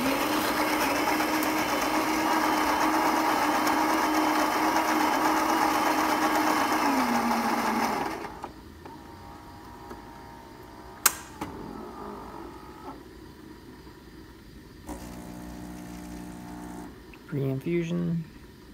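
A Saeco Intuita espresso machine, just repaired with a new thermostat, hums and buzzes loudly with a motor drone for several seconds, then goes quiet apart from scattered clicks, short whirring pump bursts and faint voices.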